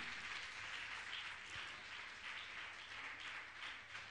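An audience at a Jain religious gathering with Muni Shri Praman Sagar applauds, a faint, steady wash of many hands clapping, sustained evenly throughout.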